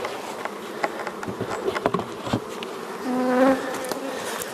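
Honey bees buzz steadily around an open hive during a powdered sugar mite treatment, a dense close swarm hum with scattered louder passes and a brief stronger drone near the end.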